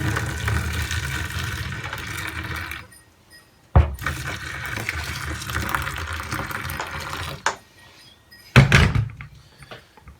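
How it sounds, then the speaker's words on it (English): Fairly hot water pours steadily into a bowl with bleach in two long runs, broken by a couple of sharp knocks and a brief quiet gap. "then I'm going to add some fairly hot water to it"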